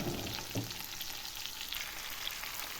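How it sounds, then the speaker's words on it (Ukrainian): Onions fry in a pan with a soft, even sizzle, a quiet close hiss with a couple of small knocks near the start and no voices. "Підсмажила, тепер додаю цибульку."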